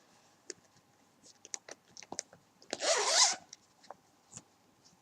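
A zipper pulled shut across a handmade sewn fabric bag, one dense rasping zip of about half a second standing out amid soft scattered clicks and rustles of handling, close and fairly quiet.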